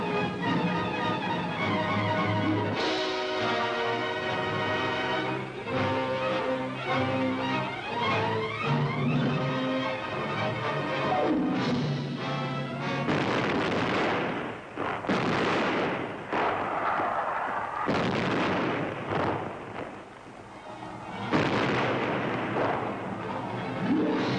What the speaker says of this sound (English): The naval bombardment of Japan begins.